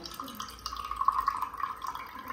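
Water trickling thinly from a tap, a faint uneven running stream over quiet room noise.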